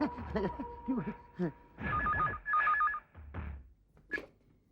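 A telephone rings in short warbling bursts, two rings close together, mixed with background voices and a few thuds.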